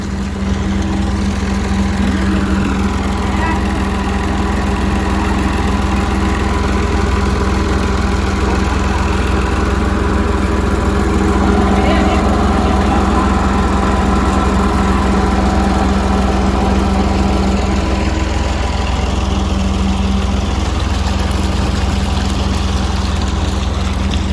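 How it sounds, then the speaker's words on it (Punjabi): A tractor engine runs steadily in a farm field, driving a water pump through its shaft, a loud, unbroken low drone with a constant hum throughout and no talking. "ਹੁਣ ਅਸੀਂ ਦੁਪਹਿਰੇ ਫੇਰ ਟਰੈਕਟਰ ਚਲਾ ਦਿੱਤਾ"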